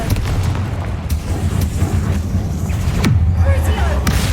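A Confringo blasting spell detonates in Hogwarts Legacy, a dull booming burst over a steady low rumble of game ambience, with a second swelling impact near the end.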